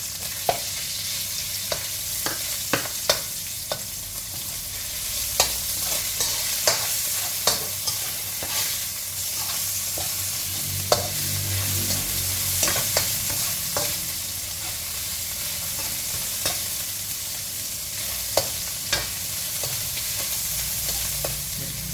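Minced pork stir-fried with garlic and shallots in a wok, a steady sizzle broken by frequent sharp spatula scrapes and clacks across the whole stretch, close and fairly loud, with no talking.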